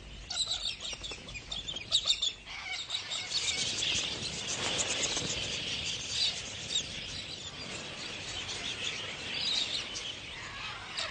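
Harsh, screechy galah calls ring out repeatedly over a steady insect-like buzz, moderately distant with no talking.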